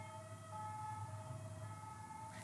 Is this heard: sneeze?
no